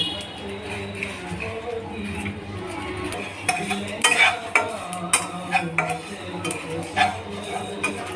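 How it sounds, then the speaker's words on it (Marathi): Sesame seeds and grated coconut dry-roasting in a pan for a spicy Maharashtrian brinjal bhaji, with a soft steady sizzle and scraping stirs that grow busier partway through, with some talk in the background. "तीळ पण छान भाजून घेऊ।"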